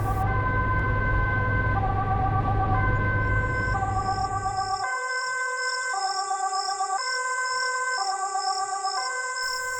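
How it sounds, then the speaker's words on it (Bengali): An old ambulance siren in a cartoon wails shakily, first over a rumbling engine, then as a thin, warbling two-tone electronic wail repeating clearly on its own. "গাড়িটার রং ছিল পুরনো, মরচে ধরা, আর সাইরেনের শব্দ ভাঙ্গা কণ্ঠের মতো"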